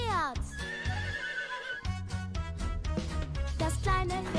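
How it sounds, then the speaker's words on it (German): A horse neighs and whinnies in a long, loud, shaky call at the start, followed by a second whinny and busy clip-clop-like noise throughout, with little else clear. "Das ist ein Pferd."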